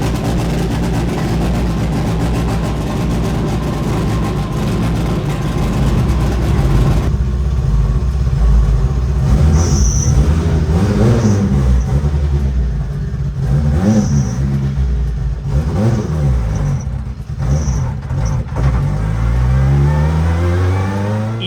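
A K24-engined Ferrari race car accelerates hard on a circuit at a World Time Attack Challenge event, its engine loud and sustained, revving up and down through repeated gear changes with no talk.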